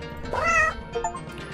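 A cat from the video game 100 Asian Cats gives one clear, close meow, followed by a shorter, softer chirp.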